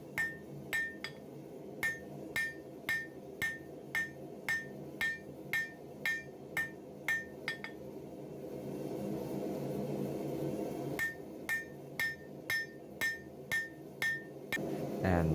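A hammer forges the steel tang of a Bowie knife made from a mill bastard file, with a run of sharp, evenly spaced ringing blows, a pause filled with a roaring forge-like hiss, then another burst of strikes.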